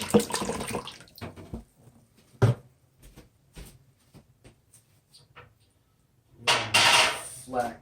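Apple juice, 64 fluid ounces, poured into a pressure cooker: a splashing gush at the start, faint clinks and knocks in between, then a second strong pour near the end.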